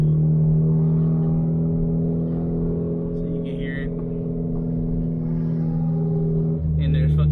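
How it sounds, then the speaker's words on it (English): A Genesis Coupe's engine and exhaust drone steadily from inside the car, loud and close, with a couple of brief crackling pops breaking through near the middle and end. "these are pretty good pops and bangs, I would say, for this car"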